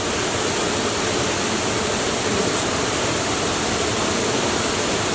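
Water pours steadily at the Kima Atas waterfall near Manado, a loud, even hiss and roar of falling water with no breaks and no voices.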